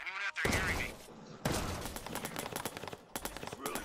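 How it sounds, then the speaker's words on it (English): Gunfire in the video game Watch Dogs 2, dense bursts of rapid shots in close succession with brief gaps, loud and near, mixed with a voice talking. "No, they're shooting at me. He's shooting at me."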